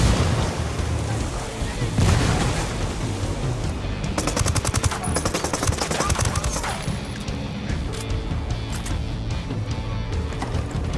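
Rapid bursts of automatic gunfire rattle through a firefight in the tactical shooter Ghost Recon Wildlands, with a dense, loud clatter of shots and combat noise and brief voices mixed in.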